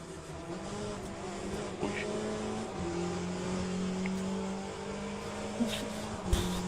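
Race cars in the Le Mans Ultimate video game: a steady engine drone holds up front, with brief whooshes of other cars going past, plus a couple of short thumps near the end.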